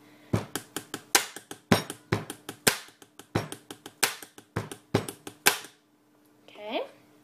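A pen tapped fast on a hard surface gives a quick run of sharp, crisp clicks in an uneven rhythmic pattern, loud and close, ending with a short pause and a brief vocal sound.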